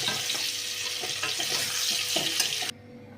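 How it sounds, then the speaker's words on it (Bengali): Potatoes and papaya frying in hot oil with salt and turmeric, a steady close crackling sizzle with light stirring that cuts off abruptly near the end, no voices. "এবার আমি মাংসের রান্না করার জন্য আলুটা, পেঁপেটা মধ্যে নুন আর হলুদ দিয়ে খুব ভালো করে ভেজে নিচ্ছি"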